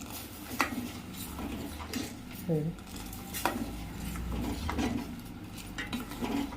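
A spoon stirs jaggery syrup cooking in a metal pot for sajja burelu, giving scattered clinks and scrapes against the pot over a low steady bubbling background.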